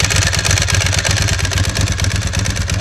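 A Ducati 996 motorcycle idling with its dry clutch rattling, a loud, close, steady mechanical clatter over the engine's rhythmic low thrum, continuous with no voices.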